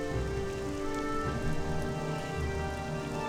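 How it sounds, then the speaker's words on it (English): Steady rain pours in the Morrowind video game, a dense, even hiss of drops with faint low rumble underneath, continuous and unbroken throughout. "Have I mentioned that I hate the rain? Because I hate the rain."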